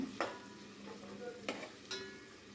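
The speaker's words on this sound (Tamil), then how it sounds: "வெங்காயம் நல்லா பொன்னிறமாக வதங்கட்டும்" Soft, steady sizzling of onions frying in oil in a pan, with a few light scraping stirs and clinks over a low hum.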